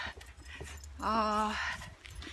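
A dog on an outdoor walk gives a short whine, with light footsteps, rustling and some nearby talk around it.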